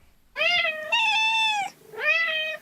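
A domestic cat meows three times in close succession, loud and near, with a long drawn-out middle meow and a rising final call, heard alone without talk.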